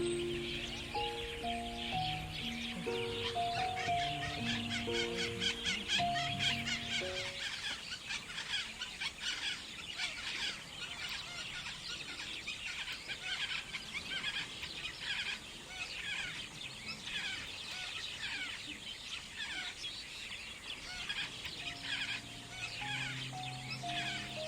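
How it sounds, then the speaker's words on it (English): Mynas in Kaziranga National Park keep up busy, overlapping chirps and squeaky calls that run continuously as a lively background chorus, with occasional tonal notes rising above it. "The chirping noises in the background is that of the mynas"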